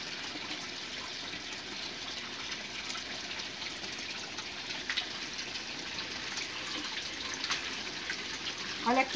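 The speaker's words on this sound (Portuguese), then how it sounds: "agora eu vou jogar os peixes na caixa d'água." Live tilapia are dropped into a water tank, heard as steady rushing, splashy water noise with a few small sharper splashes near the end.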